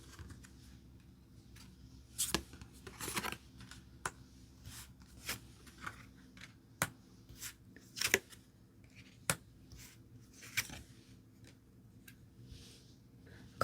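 Tarot cards being shuffled and picked out by hand, a quiet sequence of soft irregular flicks and slaps of card stock, close and faint with no talk.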